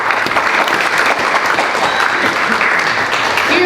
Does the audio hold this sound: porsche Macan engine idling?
no